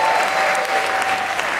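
Applause from a live show audience, a dense, steady clatter of clapping that holds at full strength for the whole short stretch, with no voices rising above it.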